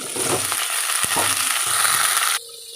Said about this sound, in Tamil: இந்த கத்திரிக்காயை போட்டு கலர் மாறுற வரைக்கும் நல்லா வதக்க வதக்கணுங்க